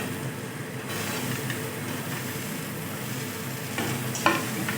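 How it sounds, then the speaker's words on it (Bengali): Potato pieces sizzle in hot oil with spices in a wok as they are stirred for a fish curry. A steady close frying hiss runs throughout, with a few sharper scraping stir sounds near the end. "এই আলুটা দিয়ে একটু নাড়াচাড়া করে নিয়েছি"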